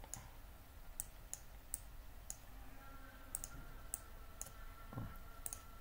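Faint, sparse computer mouse clicks during a Windows Server 2016 sharing permissions setup, a dozen or so single sharp clicks at irregular intervals over quiet room noise.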